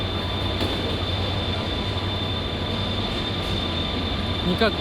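Inside a moving passenger train to Busan, South Korea, a steady rolling rumble and hum continue evenly, with a faint whine and a brief squeal near the end.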